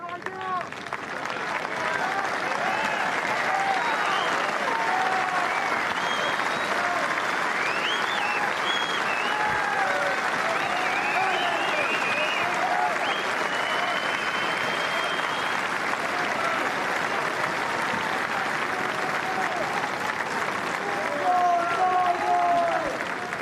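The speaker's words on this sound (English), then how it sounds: "He'd like that sort of applause on Sunday, but maybe to be a bit louder." A golf crowd at the Carnoustie Open gives steady, moderate applause, a continuous patter of clapping from spectators that holds throughout, with a commentator's voice faintly over it.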